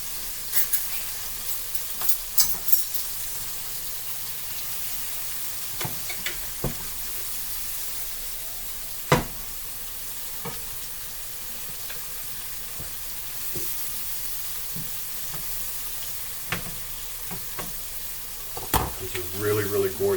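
Scallops sizzling in hot oil in a pan, a steady low fry with occasional sharp clicks and knocks, fairly close and without talk.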